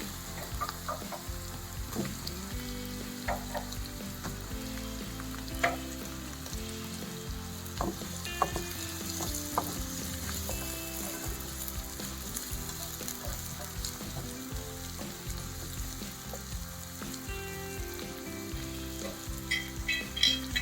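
Green chillies and drumstick pieces sizzle and fry steadily in hot oil in a pan, a continuous close crackle with occasional stirring clinks, no talking.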